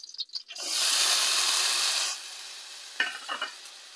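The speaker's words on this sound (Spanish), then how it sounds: "Como ven, destiempo a echar a sofreír los ejotes." Green beans dropped into hot lard for mole set off a loud, steady sizzle that holds for about two seconds, then fades into quieter frying with a few short stirring scrapes toward the end.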